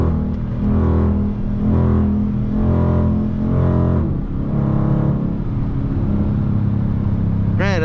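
Ram with the RT 5.7 Hemi V8 idling and revving while parked, a loud, close, deep rumbling engine with rhythmic surges in throttle, steady low drone throughout.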